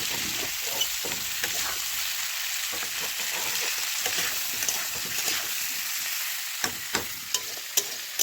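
Steady sizzling of radish frying in a pan with turmeric, with a few sharp clicks and taps from stirring toward the end.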